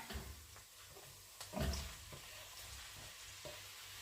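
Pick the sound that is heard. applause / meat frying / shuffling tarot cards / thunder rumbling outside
meat frying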